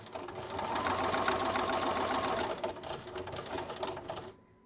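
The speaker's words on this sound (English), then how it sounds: "And I'm sewing tonight on Bernina Artista 630 model." A computerized Bernina Artista 630 sewing machine from the 1990s stitches steadily, a close, fast, even whirring rattle that runs for several seconds before stopping abruptly.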